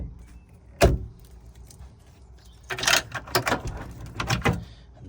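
Plastic trim clip pried and pulled free from the rear door of a Nissan Elgrand E51, heard as one sharp snap followed by a flurry of close rattling clicks and scraping handling noises.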